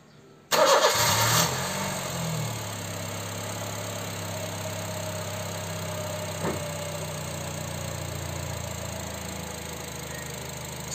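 Car engine cranks and catches with a loud burst, then settles into a steady idle that runs on with one brief knock partway through; nobody speaks.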